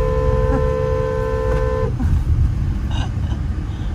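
A long, loud, steady truck horn blares over busy road traffic with many trucks, cutting off abruptly, followed by a rumbling traffic din with a couple of faint higher squeaks.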